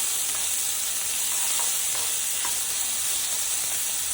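Onions sautéing in a hot cast iron skillet, a steady close sizzle and hiss with occasional soft crackles and light stirring, no voices.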